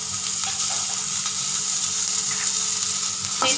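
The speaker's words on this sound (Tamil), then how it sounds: "சேர்த்து பச்சை வாசனை போகிற வரைக்கும் நல்லா ஃப்ரை பண்ணிக்கலாம்." Sliced onions with ginger-garlic paste fry in a pan for chicken balls, giving a steady, close sizzle that runs evenly throughout with no talking.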